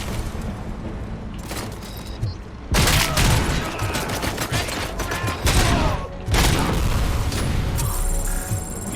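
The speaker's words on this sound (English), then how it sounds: "Oh, you did not just throw a grenade at me." A grenade blast in the RoboCop video game, a loud booming burst amid continuous gunfire and explosions, with heavy rumbling bursts recurring through the clip.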